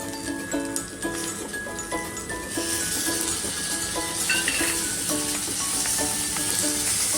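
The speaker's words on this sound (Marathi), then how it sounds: "त्याच्यामध्ये चिंच पण भाजून घेऊया आपण" Tamarind roasting in a pan for a spicy coriander chutney, giving a soft, steady sizzle with a light, regular ticking of stirring throughout, no talk.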